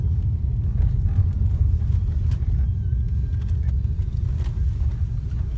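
A 2006 Pontiac Grand Prix GXP with a 303 hp 5.3 V8 drives and turns, heard from inside as a steady low engine and road rumble with faint ticks and rattles, no talking.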